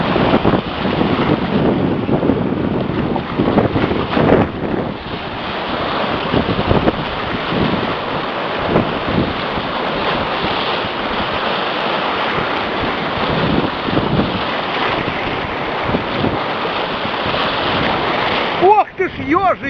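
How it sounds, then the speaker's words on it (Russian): Surf rolls and breaks along a Crimean shore on a road trip, a broad continuous wash with heavy wind buffeting the microphone, steady and loud throughout, with a faint voice near the end. "И волна."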